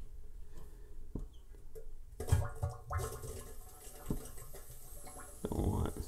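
Water trickling slowly into a toilet after a T valve is opened during a bidet sprayer installation, with soft gurgles and a few clicks, growing to a fuller rush near the end.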